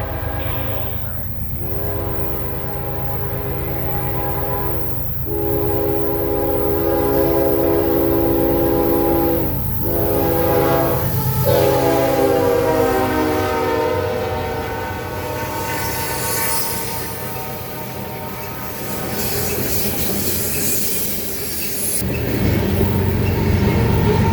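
A southbound Kansas City Southern train rumbles and clatters past close by while its horn sounds several long, loud blasts, then the noise carries on steadily.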